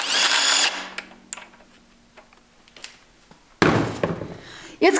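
A power tool with a 17 mm socket spins off the left-hand-threaded sprocket nut during an engine block overhaul, a loud burst of whirring and rattling at the start, then quiet ticks and taps, and another loud mechanical burst near the end.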